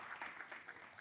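Brief, soft burst of studio audience applause welcoming a guest onto a Hindi television comedy talk show, steady clapping with no talk over it.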